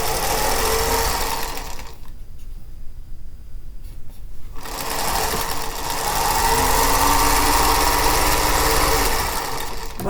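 Sewing machine stitching a seam on a quilt block, a loud steady whirring run that stops for about two seconds and then starts again, continuing to the end, with no talking.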